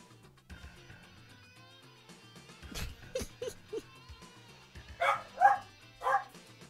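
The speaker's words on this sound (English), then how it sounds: "This dog, seriously, look at this animal." A dog barks several times in short, sharp bursts at close range, mixed with whimpers and small yips, over a quiet background of game music, while a person talks now and then.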